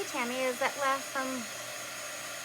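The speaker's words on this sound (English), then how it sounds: "And I'm gonna dry this with my dryer." A handheld dryer blows with a steady, even whir while drying chalk paint on a craft project, continuing throughout as a person speaks briefly over it.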